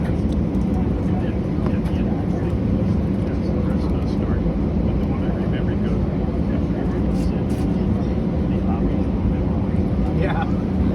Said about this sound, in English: Watch this sick takeoff in an Airbus A319.